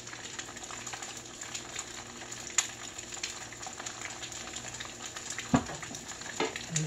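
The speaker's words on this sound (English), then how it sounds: "And just scramble it." Salt-and-pepper-seasoned egg scrambling in a pan gives a steady low sizzle. Light scrapes and taps from stirring are scattered through it, with a couple of sharper knocks.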